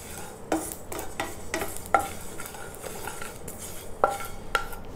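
Sesame seeds roasting in a pan, stirred with a utensil that scrapes and clinks against the metal in irregular strokes over a faint sizzle, close and moderately loud, with no talking.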